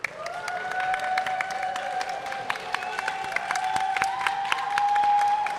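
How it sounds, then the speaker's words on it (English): A crowd at an open longsword fencing finals applauds and cheers for the contestants, a dense, steady wash of clapping and crowd noise that holds throughout, with a faint sustained tone running underneath. "Wonderful crowd making a lot of noise for our contestants here."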